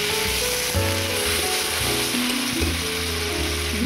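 Water poured into a hot pan of potatoes and shrimp sets off a loud, dense, continuous sizzle and hiss that fills the whole stretch without pause.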